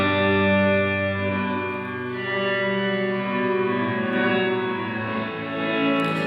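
A Strymon NightSky reverb pedal turns a sustained tone into a dense, shimmering reverb wash with a sharp resonant ring, steady and loud with no voices.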